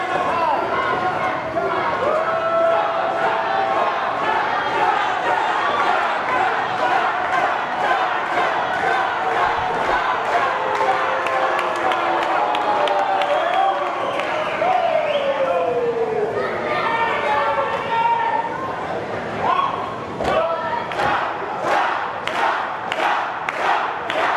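Wrestling show crowd at Bash at the Brew 16 cheering and chanting in loud, rhythmic waves, with clapping bursts and a commentator talking over the noise.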